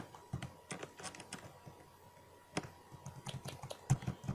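Clicky typing on a computer keyboard in irregular bursts of keystrokes, fairly close and moderately loud, with a faint steady hum underneath and no talking.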